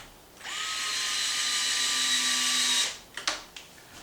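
A power drill tightens bumper screws on an RC car: a single high-pitched whine of roughly two and a half seconds, followed by a few short bursts as it finishes.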